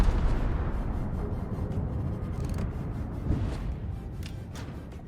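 Heavy naval gunfire in the World of Warships game, with the cruiser Incomparable firing at other ships: deep, loud booms and rumbling blasts that roll into each other, with no talking.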